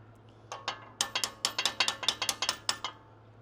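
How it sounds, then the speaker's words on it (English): A ratchet tightening a sway bar quick disconnect assembly on the passenger side of a Mojave, steady rhythmic clicking in short bursts of sharp pawl ticks, close and clear over a low hum. "now we'll fully tighten this assembly down on the passenger side"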